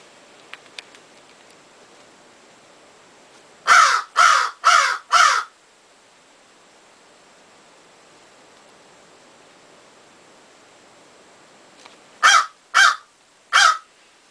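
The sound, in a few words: crow cawing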